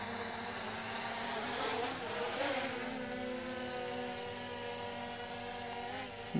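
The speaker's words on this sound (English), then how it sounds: "And the drone will start to come down. And you can probably hear it." A DJI Mini 3 Pro drone descends to land outdoors, its propellers giving a faint, continuous whining hum whose pitch drops and settles partway through.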